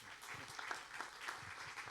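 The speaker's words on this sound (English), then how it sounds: "I think you hear this clapping." Quiet audience clapping after a film Q&A with a director, a soft, distant patter of many hands continuing evenly throughout.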